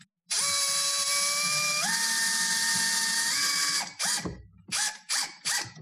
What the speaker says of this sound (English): So I'm drilling a hole.